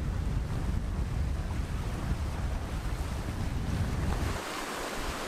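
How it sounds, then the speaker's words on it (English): Gusty wind roars across a sailboat near an island, a loud, continuous rush of wind noise against the microphone mixed with water wash, easing slightly near the end. "The wind speed is going, changing 15 knots up and down."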